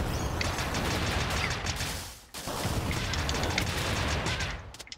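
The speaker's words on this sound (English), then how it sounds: "Those missiles do a lot of damage." Rapid crackling bursts of explosions and missile fire from the video game Freedom Planet, dense and continuous, with a short break midway.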